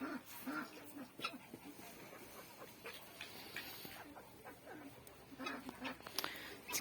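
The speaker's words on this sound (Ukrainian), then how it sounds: "Гуси там в кінці, що це" Farmyard geese honk and call among other poultry as thaw rain drizzles, a string of nasal cries at moderate distance over a soft steady background.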